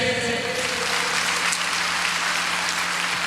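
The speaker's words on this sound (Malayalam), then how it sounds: "ഓക്കെ, ഒന്ന് കൈയടിച്ചേ." A group of trainee teachers clapping together on cue, dense, loud and continuous for a few seconds, with a steady hum underneath.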